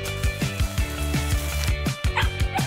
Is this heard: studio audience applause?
no